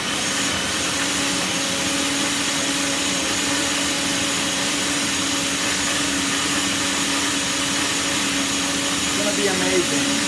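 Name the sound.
blender mixing gazpacho tomato and vegetable soup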